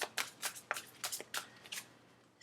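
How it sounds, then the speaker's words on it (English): A deck of tarot cards being shuffled by hand, with a series of crisp riffling bursts in quick succession, close and fairly quiet, with no talking. "Last shuffle."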